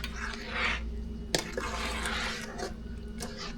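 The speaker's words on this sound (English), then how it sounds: "Give it a good stir." Strawberry jam and sugar being stirred in a pot, a soft, quiet scraping and swishing with one sharp clink of the utensil against the pot partway through.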